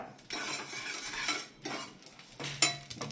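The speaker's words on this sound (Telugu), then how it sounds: "జీలకర్రను కూడా డ్రై ఫ్రై చేసేసుకొని" Cumin and coriander seeds are dry roasted in a pan, heard as a few short bursts of dry rattling and scraping against the metal with light clinks, quiet and close, without talk.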